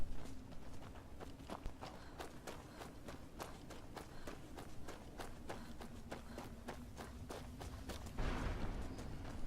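In the Skyrim video game, a horse's hooves clip-clop in a steady, even walking rhythm across the Soul Cairn for several seconds, mid-distance and fairly faint, with a low ambient drone underneath.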